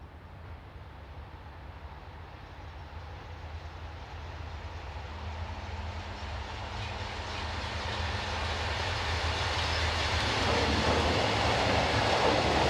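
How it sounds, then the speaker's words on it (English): SNCF diesel locomotive BB 67623, infrastructure-owned, hauls a northbound train, its low engine drone and rolling roar growing steadily louder as it approaches, with no voices. "Here we see infrastructure-owned BB 67623 on a northbound rail train."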